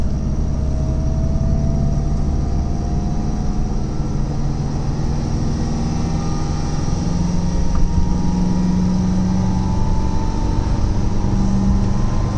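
Lancia Flavia Milleotto LX engine pulling steadily up a hill in third gear, a continuous loud drone with a slowly rising tone and road rumble, no talk.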